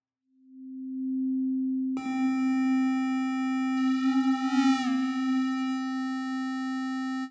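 A pure synthesizer oscillator tone holds steady, then a second buzzy harmonic-rich tone joins and wobbles briefly before settling into a sustained drone.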